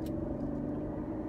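An Audi Q8 SUV accelerating hard, with a steady, loud engine rumble and a dense low drone that holds evenly throughout the short stretch, no voices over it.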